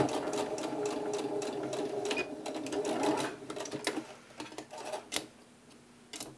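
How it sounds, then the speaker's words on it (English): A sewing machine stitches peacock tail feather pieces for a Halloween mask, whirring steadily for about three seconds, then slowing into a few scattered stitches and clicks. "We're now going to stitch our tail feather pieces together, starting from the center."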